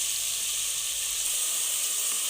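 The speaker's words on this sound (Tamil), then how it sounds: "இந்த வெங்காயம் வந்து நல்லா எண்ணெயில் வணங்கணும்" Onions frying in oil for a South Indian prawn curry give a steady, even sizzling hiss that holds at one level throughout, close to the pan, with no talking.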